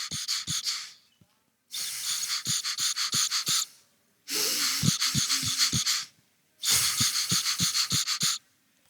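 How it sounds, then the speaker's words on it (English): Calm, slow breathing in and out with a mouthwash-like action of the mouth while learning pipe smoking, four long airy breaths separated by silences, with soft clicks and gurgles, close and quiet. "what I'm doing is relaxingly breathing in and out and doing the mouthwash action at the same time"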